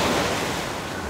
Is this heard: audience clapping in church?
no